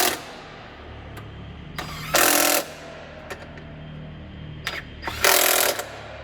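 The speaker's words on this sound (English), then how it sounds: "To finish off, we'll just tighten our top mount screws." A power tool gives two short loud bursts, separated by quieter clicks and rattles, as it tightens the strut top mount screws on an R50 Mini Cooper during a suspension strut and drop link replacement.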